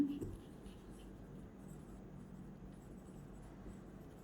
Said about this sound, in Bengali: আগে এইটুকু লিখি